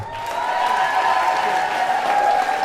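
An audience at a 50th anniversary celebration applauds in a loud, sustained wash of clapping that carries on steadily throughout, with no speech over it.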